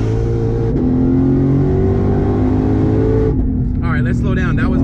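Twin-turbo 2020 Shelby GT500 engine roaring loud and close with rising revs as it accelerates hard, then easing off near the end, with a voice speaking over the final moments.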